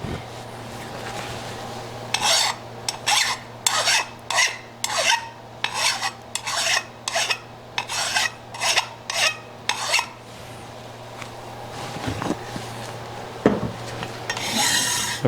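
A file rasps a chamfer onto the edge of a hand plane, about fourteen rhythmic back-and-forth strokes close up, each a sharp gritty scrape, followed by a couple of quieter handling clunks.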